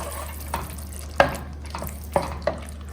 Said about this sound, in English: we add lime juice. Stir a little bit